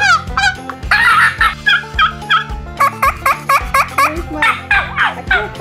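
A handheld turkey call imitates a wild turkey's gobble: loud, close, rapid rattling gobbles in a series of short bursts with brief pauses between them.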